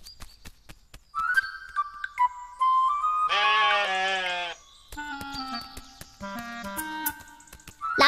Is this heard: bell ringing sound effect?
no